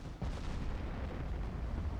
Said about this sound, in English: Mizuho is disengaging and still using those stern turrets to put the screws on the Galveston